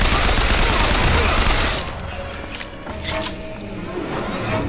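Dense gunfire from a BioShock Infinite firefight in Shanty Town, a loud continuous roar of shots fading into scattered sharp cracks, close and busy.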